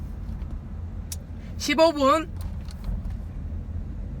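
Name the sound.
Chevrolet Trax Crossover car engine started and idling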